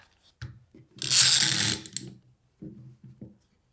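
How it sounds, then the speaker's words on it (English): Clamps are tightened on the joint of a wooden gift box, with short mechanical clicks and ratcheting, a louder scraping rasp in the middle, then a few quiet taps, close by and alone in a quiet shop. "I want to put a couple clamps on there to just suck this closed"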